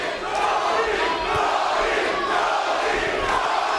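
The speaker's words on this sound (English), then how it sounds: "Crowd yelling Tony, and he obliges." Boxing arena crowd chanting and yelling a fighter's name during a bout, a loud continuous massed roar of voices that holds steady throughout.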